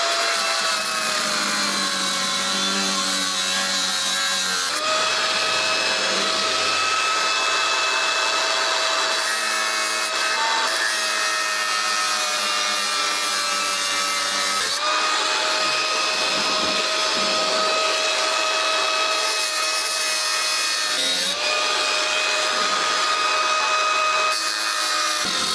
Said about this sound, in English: I got the tubes cut off from the old hitch.